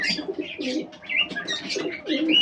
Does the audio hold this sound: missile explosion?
no